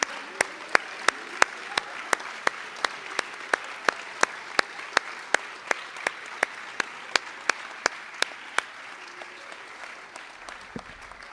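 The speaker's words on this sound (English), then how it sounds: "please stand for a round of applause for all their hard work and dedication." Applause at a college athletics recognition ceremony for coaches and staff, heard as a steady, evenly spaced series of crisp claps that carries on for about eleven seconds, with faint room noise underneath.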